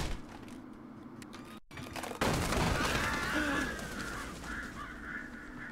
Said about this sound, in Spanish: Hay un cuervo dentro, hay varios cuervos dentro.